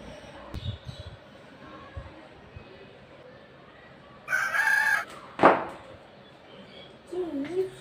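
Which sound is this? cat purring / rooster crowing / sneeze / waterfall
rooster crowing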